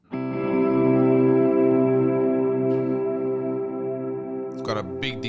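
An electric guitar played through effects with chorus, echo and reverb: a single sustained chord rings out close and loud, decaying slowly over several seconds before brief scratchy string noises at the end.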